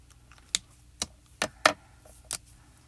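Alcohol markers scratch and tap across stamped paper while coloring a country church image, five short sharp strokes spaced unevenly, close and fairly quiet, with no talking.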